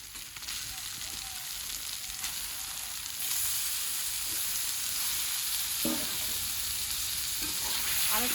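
Minced lamb fries with spice paste in oil in a home kitchen, a steady close sizzle that grows louder partway through as the meat goes in, with occasional spoon scrapes and knocks against the pan.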